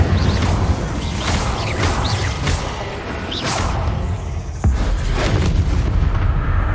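An Incendio fire spell cast in Hogwarts Legacy, loud and continuous, with whooshing bursts and booming blasts layered over a dense roar of game effects. A sharper crash lands near the end.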